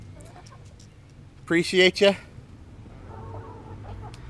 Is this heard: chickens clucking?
yes